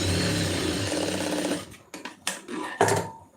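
A sewing machine stitches the shoulder seam of a garment in a fast, even whirr, then slows into a few short bursts and stops, heard up close with no talking.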